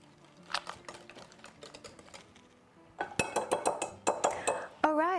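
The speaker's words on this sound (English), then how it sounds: "we're going to whisk them all together, add a little salt and pepper" Eggs being whisked in a bowl with salt and pepper, rapid rhythmic clinking taps of the whisk against the bowl, quieter at first and then faster and louder, ending in a brief scrape.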